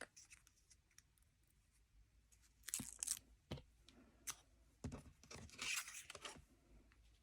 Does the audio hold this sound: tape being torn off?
yes